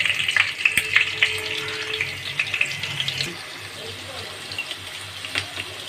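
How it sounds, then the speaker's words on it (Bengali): Potatoes frying in a pan, a continuous hissing sizzle with scattered pops and spatula taps, close up, joined midway by a brief running-water or tap-like sound. "এবার আমি আলুগুলোকে ভেজে নেব"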